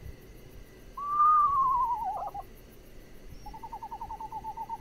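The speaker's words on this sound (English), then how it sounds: "And there is the screech owl." A screech owl gives a clear descending whinny, then a steady run of quick trembling trills, with faint crickets chirping in the background.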